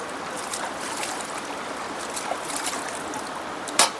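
Water of the Ganges flowing steadily at a riverside ghat, a continuous close rushing trickle with a brief louder splash near the end.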